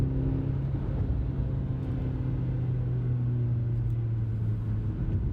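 A car engine hums and rumbles steadily from inside the cabin on a winding road, its pitch shifting slightly as it pulls, with no talk.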